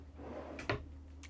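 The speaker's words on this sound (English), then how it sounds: "Right here is the silverware drawer." A silverware drawer inside a 2021 Little Guy MAX camper slides open with one short, close wooden knock and rattle over a faint room hum, with no talking.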